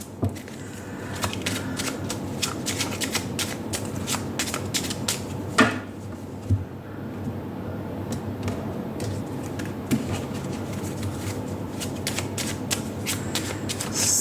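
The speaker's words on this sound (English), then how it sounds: "I just cut the deck to shuffle" A deck of tarot cards being shuffled by hand, a steady run of crisp riffling clicks and flutters, close and moderately loud, with a few sharper taps and no talking.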